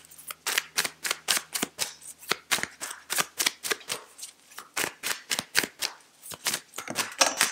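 Tarot cards are shuffled and tapped by hand at close range in a quick, steady series of crisp riffling snaps and slaps, with no voices over them.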